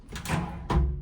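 Cabinet drawer in a cruise ship cabin bathroom sliding open, two quick close bursts of wooden scraping and a soft thud, no talking.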